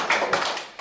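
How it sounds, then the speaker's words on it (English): Short burst of audience applause at a church children's ministry volunteer meeting, a room of hands clapping steadily for under a second with no voices over it. "Another round of applause."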